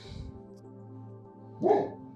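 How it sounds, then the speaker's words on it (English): Dogs bark indoors during quilt sewing, a faint yip at the start and one louder bark near the end over a low steady hum. "While the dogs are barking"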